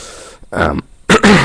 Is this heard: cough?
yes